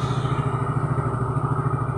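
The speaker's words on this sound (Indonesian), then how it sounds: "motor udah bisa hidup ya dengan normal kembali" A Honda Soul GT motorcycle engine, running normally again after repair of a sudden-stalling fault with backfire, idles steadily up close with an even low pulsing throb and light mechanical clatter, no voices.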